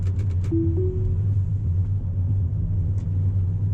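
A low, steady road rumble and faint hum from inside a moving Tesla Model 3 electric car, with a couple of soft chimes near the start.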